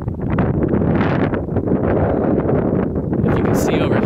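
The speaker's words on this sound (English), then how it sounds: "it is quite windy up here" Strong wind buffets the microphone on an exposed mountaintop overlooking the Pacific, a loud, continuous low roar that never lets up, with faint rustling and a brief higher sound near the end.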